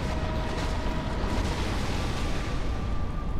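Queelag's explosion attack in Dark Souls, a continuous heavy rumbling blast with a dense, roaring body that holds steady throughout, loud and close.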